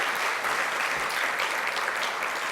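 A large seated audience at an education conference in California claps together in a dense, sustained burst of applause, loud and close, with no talking over it.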